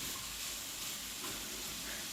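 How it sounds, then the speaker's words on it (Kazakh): Carrot and radish frying in oil for lagman give off a steady, moderate sizzle with soft hissing, continuous and close with no talk. "Бұл сәбізді және редьканы да бір кішкене 5-10 минут қуырып алу қажет."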